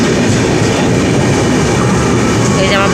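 A passenger train from Howrah rolls into a station close by, its loud continuous rumble and wheel clatter filling the air, with a faint squeal of wheels near the end.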